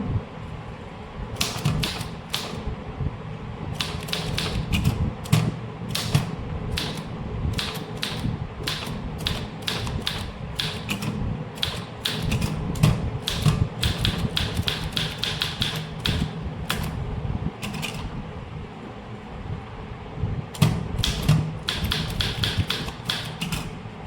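A manual typewriter tapping out a demi-official letter in English, keys striking in quick bursts with brief pauses between words and lines, each strike crisp and close with a mechanical clack.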